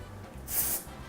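Dove Hair Therapy dry shampoo sprays from an aerosol can in one short, close hiss lasting about a third of a second, standing out above a soft background hum.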